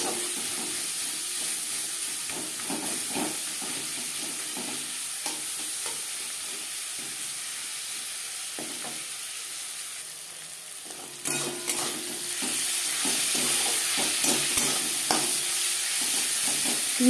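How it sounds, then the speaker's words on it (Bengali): Onions fry with salt and turmeric in a pan under a constant sizzle, stirred with repeated scraping strokes of a spatula, close and steady; the hiss swells louder in the later part, with no talking. "লবণ হলুদ পেঁয়াজের সাথে বেশ ভালো করে মিক্স করে নেব"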